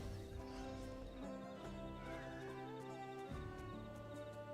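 A horse in an online role-playing game whinnies with a rising, wavering neigh over clip-clopping hooves, set against layered ambient game music, with no voices.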